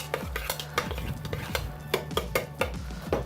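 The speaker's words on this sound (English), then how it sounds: "Okay, we're gonna stir that in." Squash fritter batter with a cracked egg being stirred in a bowl, heard as a steady run of close scraping strokes against the bowl with no voices.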